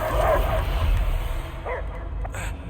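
Dog barks and yips from a creature in Marvel's Guardians of the Galaxy, a few short, fairly close calls over a steady low game ambience, with a brief voice near the start.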